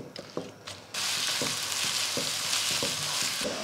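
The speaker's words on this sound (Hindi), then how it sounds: "गोल्डन ब्राउन कलर के हम प्याजों को फ्राई करेंगे।" Sliced onions for biryani fry in hot oil in a pan, giving a loud, steady sizzle, broken by a few scraping stirs at the start and quieter stir clatter throughout.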